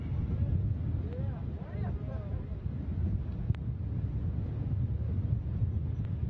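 Rocket engines at full thrust during the NASA Cygnus-15 cargo launch to the ISS make a steady, distant, rushing roar with a wind-like quality, and a faint voice sits under it.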